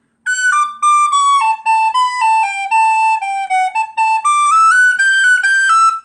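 A tin whistle plays a lively traditional tune at a brisk pace, clear bright notes in quick phrases, loud and close with short breaths between runs.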